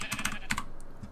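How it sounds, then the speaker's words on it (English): Quick, close clicks of keys on a computer keyboard, typed while entering text in the game Ark: Survival Evolved, in a short burst of several keystrokes with no talking. "Of course, you can type it up here."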